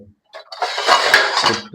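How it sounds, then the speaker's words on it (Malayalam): Dishes and pots clatter and clink close by as they are handled and set down, a brief burst of metallic knocks. "പാത്രങ്ങളൊക്കെ സെറ്റാക്കി വെക്കണം"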